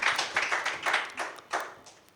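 An audience at an evening ghazal and poetry gathering claps to welcome a poet, a loose burst of hand claps with uneven rhythm and individual claps standing out, fading slightly toward the end.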